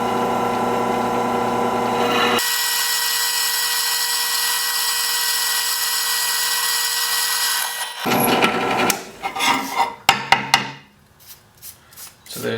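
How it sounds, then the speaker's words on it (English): A drill bores a pilot hole through oiled metal, a steady high grinding whine running continuously for several seconds before breaking into short, uneven bursts of scraping and clatter as the bit finishes through. "I'm drilling a pilot hole, by the way."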